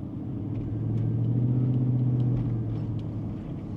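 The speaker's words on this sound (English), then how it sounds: "It is so much freaking traffic. It is ridiculous." Heavy traffic noise from a car interior on a busy road, a 454 Chevelle SS, with a swelling engine drone that peaks midway and eases off, with no talking.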